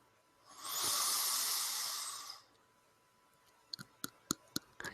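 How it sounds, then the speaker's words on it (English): Slow nasal inhalation of mountain air, a soft breathy hiss lasting about two seconds, close and quiet, followed by a few sharp faint clicks of teeth tapping together. "You take in the smooth mountain air with your nostrils."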